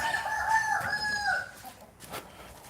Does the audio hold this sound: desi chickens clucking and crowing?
yes